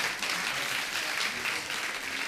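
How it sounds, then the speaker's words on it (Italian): An audience claps in steady, dense applause at a live performance of Neapolitan song, sustained without a break and fairly close. "Facciamo un altro applauso"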